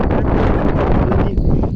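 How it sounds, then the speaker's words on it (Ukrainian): Strong wind buffets the microphone outdoors in a field with cows in a steady, loud low roar that lasts throughout, drowning out all other sound. "Вітер певне задуває."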